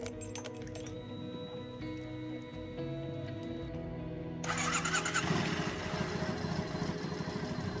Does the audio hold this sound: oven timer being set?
no